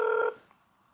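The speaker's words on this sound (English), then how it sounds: "You can hear it ringing." Mini Guardian medical alert device placing a call to its support center: a single steady electronic ring tone, loud and close, lasting about a third of a second before cutting off into near silence.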